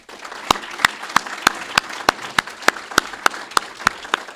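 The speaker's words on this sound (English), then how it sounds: "how about a round of applause for our candidates?" Audience applause for the candidates at a county supervisor's forum held by a realtors' association, a steady run of sharp, distinct claps close by, evenly spaced, with no talking.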